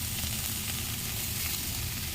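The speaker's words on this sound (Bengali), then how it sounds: "দেখুন বন্ধুরা সবিনটা ভেজে নিচ্ছি" Soybean chunks fry in hot oil in a kadai, giving a quiet, dense, continuous sizzle that stays even from start to finish with no talking.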